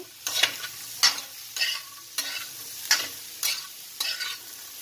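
Boiled chickpeas with salt stirred in a pan: about seven distinct scraping strokes in a steady rhythm, each a bright close swish with a light sizzle between them, and no talk.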